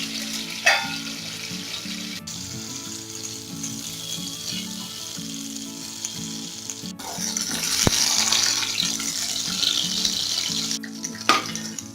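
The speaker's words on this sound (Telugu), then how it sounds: "ఈ నూనెలో ఫ్రై అయ్యేంత వరకు" Red chillies fry in oil with a steady bubbling sizzle over a low background hum, swelling louder midway, with a few sharp clinks of a utensil.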